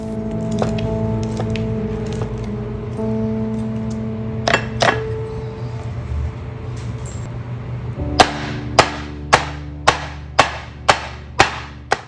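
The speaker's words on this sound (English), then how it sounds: "Can you hear the crispiness when I cut?" Soft music tones play first, then a knife crunches through the crispy skin of air-fried roast pork belly in about eight sharp, evenly spaced cracks.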